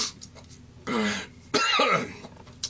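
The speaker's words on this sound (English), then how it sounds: "I don't encourage you to cough up a lung like I just did." A throat-clearing cough followed by a second harsher cough, close and loud, with a quiet pause between them.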